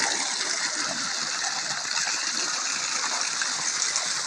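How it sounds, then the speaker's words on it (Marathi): Water gushes steadily from a newly started solar-powered pump with a 3 HP motor in a farm field, a loud, dense, unbroken rush that stays even throughout with no talking over it. "हे बघा, हा सोलर पंप आमच्या वावरामध्ये बसलेला आहे आणि आत्ताच चालू केलेला आहे."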